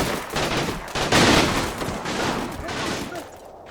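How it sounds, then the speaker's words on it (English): Dense gunfire from Combat Mission Final Blitzkrieg, a WWII tactical video game, with rapid overlapping shots and bursts that swell near the middle and then thin out. "I think I hear more firing"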